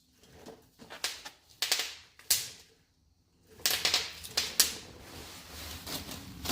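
Bubble wrap popping in sharp, irregular snaps, a cluster of pops, a brief quiet pause, then another run of crackling pops close by.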